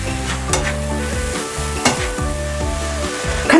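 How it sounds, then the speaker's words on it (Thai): Grated turnip for turnip cake is stirred and fried in a pan as its water starts to release, giving a loud, steady sizzle with repeated scraping stir strokes and a few sharper utensil knocks. "น้ำก็เริ่มออกเนาะเราก็คนให้เข้ากันนะคะ"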